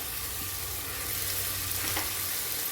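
Onion and tomato frying in a pan with mint and grated ginger, a soft steady sizzle with light stirring scrapes, close and fairly quiet.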